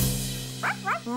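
A little brown dog gives two short, high yips close by, after a steady tonal hum; the barks are quick and bright, each well under a second.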